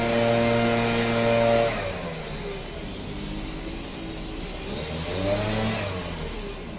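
A small motor drones outdoors with steady harmonics, fading after a couple of seconds and swelling again near the end, like a lawnmower passing by, with no talk over it.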